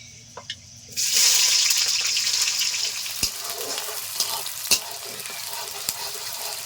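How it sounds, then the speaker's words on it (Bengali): Chopped onions hit hot oil with whole garam masala, bursting into a loud, steady sizzle after a quiet second, with a few sharp knocks of the spoon against the pan. "দিয়ে দিচ্ছি পেঁয়াজ কুচি"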